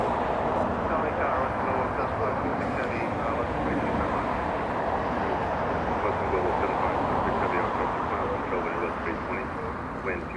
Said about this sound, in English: American 2548 flying in from Raleigh-Durham, North Carolina.